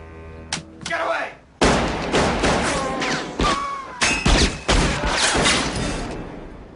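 Gunfire in a scene from the Lethal Weapon film, with loud, heavy bangs and thuds at irregular intervals, mixed with shouting voices and dense scene noise.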